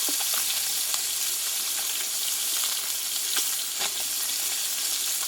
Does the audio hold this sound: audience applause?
no